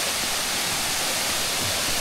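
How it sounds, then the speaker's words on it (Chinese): A steady, dense roar of falling water from Furong Valley waterfall, a tall two-tier fall some 30 to 40 metres high in a creek gorge, fills the whole moment evenly without a break. "这个白白的这个就是瀑布，非常的高"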